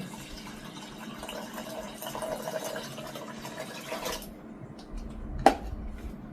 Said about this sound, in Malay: lepas tu korang masukkan air sebanyak 400 ml